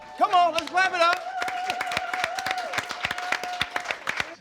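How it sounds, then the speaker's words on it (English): Audience clapping breaks out with crisp individual claps, gathering into a rhythmic beat under an animated voice and whooping that carry over the hands throughout. "Come on, let's clap it up."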